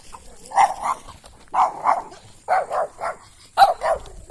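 A village dog barks about five times in short spaced bursts at fairly close range, each bark loud and distinct against an otherwise quiet outdoor background.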